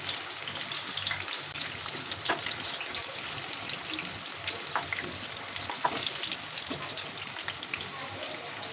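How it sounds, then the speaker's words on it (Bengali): Cauliflower pakoras deep-fry in oil over medium-low heat, giving a steady, close sizzle with scattered small pops and crackles throughout, and no talking. "মিডিয়াম টু লো আছে এক এক করে সবগুলো ভেজে নেবেন"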